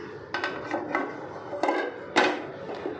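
A plate picked up and set down at home, a few sharp ceramic clinks and knocks spaced irregularly, close and fairly quiet, with no talking.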